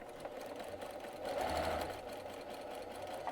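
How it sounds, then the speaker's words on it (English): A sewing machine top stitching a bulky insulated lunch sack hums in a steady, rapid run, swelling briefly louder midway, close up and without speech. "All right, so our top stitching is complete."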